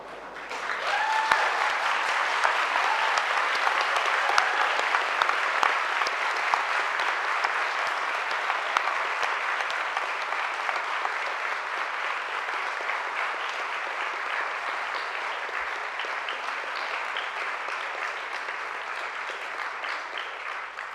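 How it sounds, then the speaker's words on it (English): Sustained applause from standing graduates at a Goldsmiths winter graduation ceremony, a large hall filled with dense, even clapping that holds steady for about twenty seconds. "invite you to applaud your families and all of the staff here at Goldsmiths"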